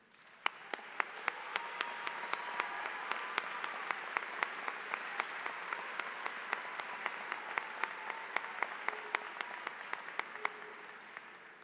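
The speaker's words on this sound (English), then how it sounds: "Let's give them a round of applause." A university fall commencement crowd claps for standing first-generation graduates: a broad, steady wash of applause from a large hall, fairly distant and even, with scattered sharper claps and no speech over it.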